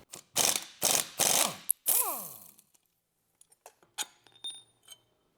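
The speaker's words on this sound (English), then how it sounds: "we're going to take out this 19mm bolt, and then we'll get this bolted onto our new leaf pack" A hand ratchet works loose a 19mm shackle bolt on a Toyota Tacoma during a leaf spring lift install, giving four loud, close bursts of rapid clicking followed by a few lighter metallic clinks and taps.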